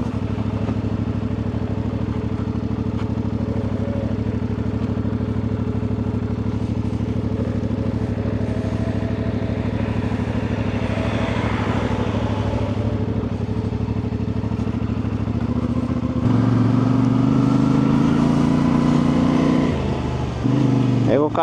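A Yamaha motorcycle rides along with a steady engine drone and road rumble; near the end the engine note rises and grows louder. A rider talks over the engine.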